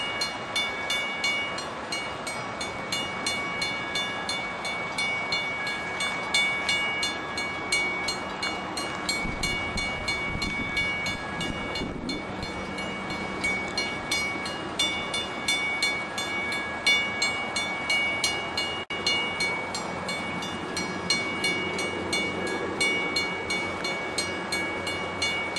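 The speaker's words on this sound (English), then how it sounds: "Oh my gosh, it's a freight train." A long Guilford Rail System/Pan Am westbound freight train rumbles past with a steady rhythmic clatter of wheels, loud and close, continuing throughout with no talking.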